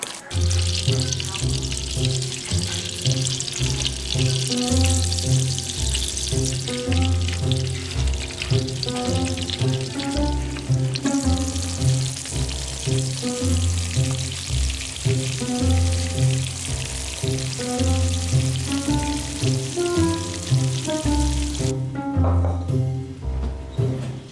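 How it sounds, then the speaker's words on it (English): Salmon patties frying in a pan on a home stove, a steady close sizzle and crackle that runs the whole time with brief popping bursts, and a sharp cut near the end. "we are ready to fry some salmon patties"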